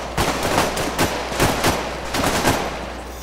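Gunfire in the Arma military video game rings out as a series of loud, close shots in quick irregular bursts, each crack trailing a short echoing decay.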